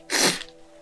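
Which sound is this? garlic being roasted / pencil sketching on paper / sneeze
sneeze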